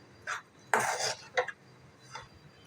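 A spoon scrapes and taps in a pan as a semolina-coconut modak filling with sugar and cardamom powder is stirred and sautéed: a few short, quiet clinks, one longer scraping stroke in the middle, and otherwise near silence.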